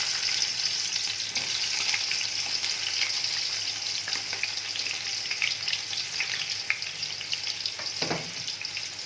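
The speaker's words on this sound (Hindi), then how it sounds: "इसमें अब मैं ये प्याज डाल दूँगी।" Sliced onions dropped into a large pot of hot ghee for chana pulao, frying with a dense, loud, continuous sizzle and crackle, with occasional stirring scrapes, heard close up without talk.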